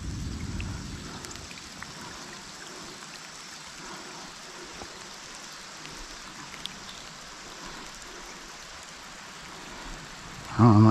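Steady rain falling on a stream during a late-summer fly fishing trip, an even hiss held throughout at moderate level, with a brief louder bump at the very end.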